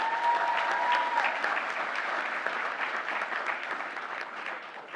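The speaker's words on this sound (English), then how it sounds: "a round of applause again for Mrs. Powell and Mrs. Nayathi" Sustained applause from an audience at a school teaching awards ceremony honoring two primary school teachers, dense steady clapping throughout that slowly thins toward the end.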